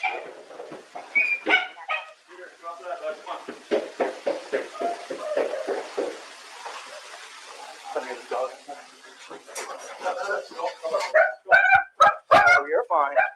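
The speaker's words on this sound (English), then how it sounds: "Maybe put the dog somewhere else," A dog barks and yips in bursts indoors, close by, mixed in among people talking over it, with some whimpering between barks.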